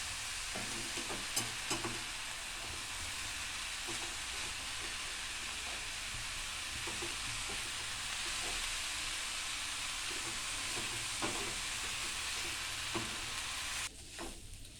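Onion and garlic dry-roasting in a pan with no oil give a steady, close, continuous sizzle with occasional scraping stirs, a faint crackle running evenly throughout.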